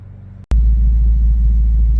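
A 2021 Ford Mustang GT's engine, fresh from an oil change, catches with a sharp click and settles into a loud, steady low rumble at idle, close by, after a half-second of quieter background.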